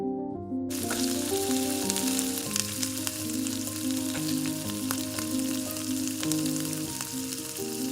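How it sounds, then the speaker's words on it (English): Chopped red onion sizzling in olive oil in a pan over medium heat, a loud continuous crackling fry close up with a steady hum underneath, no talking. "Add 1 small chopped red onion and cook for 3 to 4 minutes until softened"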